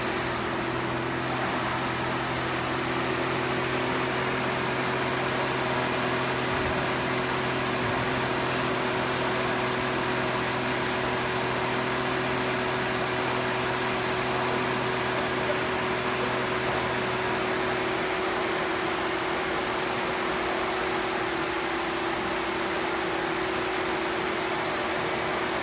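Car engine idling steadily with an exhaust back pressure gauge fitted, a constant low hum with steady tonal drone, no talking.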